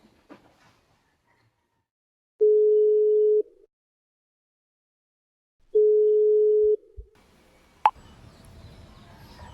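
A telephone call rings out as two separate steady electronic tones, each lasting about a second, with quiet gaps between them, followed by a click and a rustling pickup.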